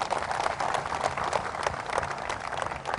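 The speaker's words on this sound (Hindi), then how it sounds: "बहुत बहुत शुक्रिया, एक जोरदार ताली।" Applause from a TV studio audience after Kuldeep Bishnoi takes an oath on a talk show, a continuous, moderately loud spread of clapping that holds steady throughout.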